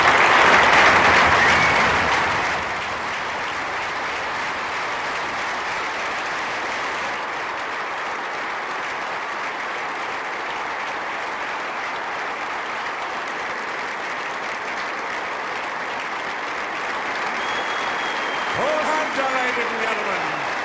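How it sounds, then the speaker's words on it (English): A snooker audience at the Hallamshire gives a minute's applause for Paul Hunter. It opens as loud, full clapping, then settles into a long, steady, softer ovation that carries on alone to the end. "would you please join us in a minute's applause for Paul Hunter"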